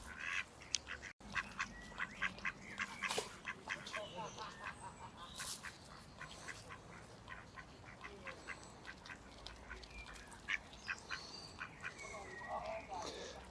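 Ducks quack repeatedly in short, close bursts while being fed outdoors, with a person talking over the steady quacking throughout.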